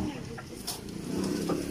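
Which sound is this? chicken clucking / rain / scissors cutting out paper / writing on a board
chicken clucking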